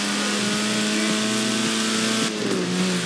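A classic 1960s Lotus Elan sports car engine in Forza Horizon 4, loud and close with a steady droning tone, brief revs and dips as it shifts, and a short tire noise near the end.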